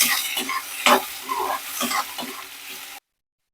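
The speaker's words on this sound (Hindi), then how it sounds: "अब हम इसमें ऐड कर देंगे प्याज। प्याज को हमने ऐड कर, अब हम इसको थोड़ा सा भून लेंगे।" Onions sautéing and being stirred in a pan for a methi sabzi with garlic, ginger and green chilli, a steady close sizzle broken by several louder scraping stirs, no voices.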